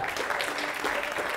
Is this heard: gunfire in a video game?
no